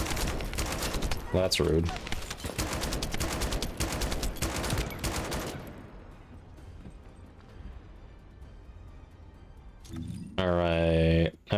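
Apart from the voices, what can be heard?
gunfire from enemies in The First Descendant video game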